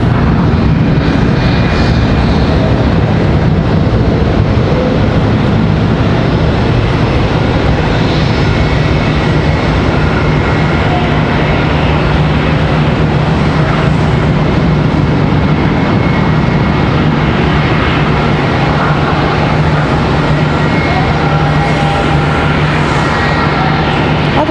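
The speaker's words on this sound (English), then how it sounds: "Again, the 777 coming in from Miami." A Boeing 777 arriving from Miami comes in to land at Charlotte Douglas airport, a loud continuous jet engine roar with broadband rumble that stays steady and close throughout, no talking.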